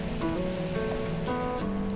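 Water rushes and gurgles beneath an ice bridge at the top of frozen Minnehaha Falls, a continuous close wash with brief tonal trickles and bubbling over a steady roar.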